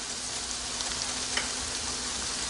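Cumin seeds crackle and sizzle in hot oil with softened onions for a Multani-style chicken karahi, a steady dense hiss of frying close by with no talking.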